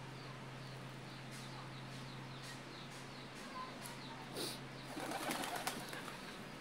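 Pigeons of varied colours feeding on scattered wheat coo softly and steadily, with faint fluttering and pecking rising toward the end; the whole scene stays quiet and a little distant.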